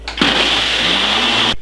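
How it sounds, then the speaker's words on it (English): A blender whirs through a batch of healthy summer juice, a loud steady motor whine starting abruptly and running evenly for over a second before cutting off, close and alone. "So I'm gonna blend this about 3 to 4 minutes."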